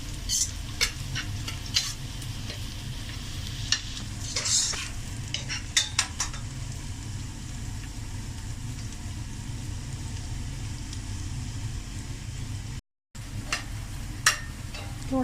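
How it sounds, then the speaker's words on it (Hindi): Ginger and garlic sauté in a pan, giving a steady, close sizzle with occasional stirring scrapes and clinks throughout, and no talk. "अदरक लहसुन को थोड़ा सा सौते करेंगे।"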